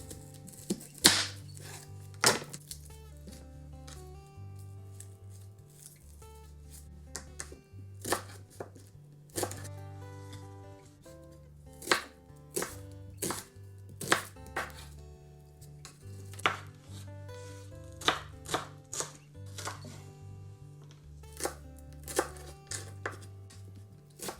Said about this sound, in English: the first thing we're gonna do is chop up our veggies